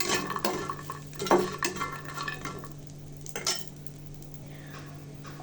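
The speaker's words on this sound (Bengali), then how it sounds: "এখন কুমড়োর বড়িগুলো ভেজে নিব তেলে।" Dried pumpkin lentil dumplings fry in oil under a soft sizzle while a metal spoon stirs, scrapes and clinks against the pan in irregular bursts; no talking.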